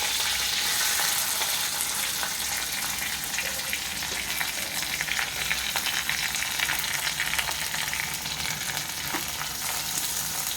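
Onions and curry leaves fry in a hot pan with a steady, dense sizzle that lasts the whole time, close and loud, with no talking.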